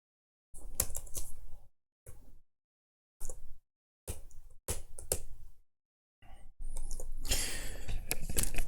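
Computer keyboard keys clatter in short bursts of quick clicks separated by brief silences, ending in a longer, denser run of typing, close and fairly quiet.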